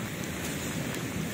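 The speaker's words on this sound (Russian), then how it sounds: "ливень." A heavy New Year downpour pours down during flooding, a dense, even hiss of rain sustained throughout at moderate loudness, with no talking.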